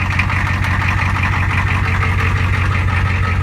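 A 1984 Ford F-250's 6.9-liter IDI diesel, started cold at about 25°F with a couple of broken glow plugs, rumbles loud and steady at close range with a continuous low idle clatter and no voices.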